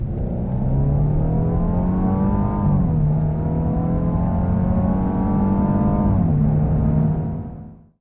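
A 2017 Mercedes E300 accelerates hard from 30 to 70 mph. The engine note rises steadily from close by, dips briefly at two gear changes, then fades out at the end.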